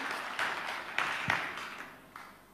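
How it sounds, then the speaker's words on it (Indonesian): Faint applause rises from a church congregation during a sermon, a soft, distant patter of clapping with a few sharper claps that gradually fades away. "Berikan tepuk tangan yang meriah."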